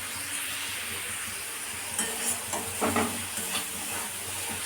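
Spices stir-fried in a pan over raised gas heat, a constant hissing sizzle with a few louder bursts of stirring and scraping near the middle.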